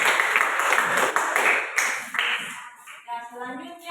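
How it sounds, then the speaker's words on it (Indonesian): A school class claps for a group after their presentation, a brisk round of hand clapping that tapers off as a voice speaks over the tail end. "Ya, tepuk tangan."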